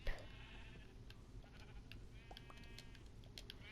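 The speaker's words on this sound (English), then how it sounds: "I'm sure you can hear my sheep." Sheep on a farm in Minecraft bleat in short, quiet repeated calls over a steady low background hum, with no talking.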